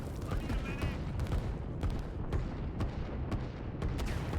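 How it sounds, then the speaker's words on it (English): Artillery in the Line War video game fires as a rapid, dense volley of booms and cracks over a constant rumbling battle din, loud and close throughout. "These artillery are behind them to get that extra firing power behind them."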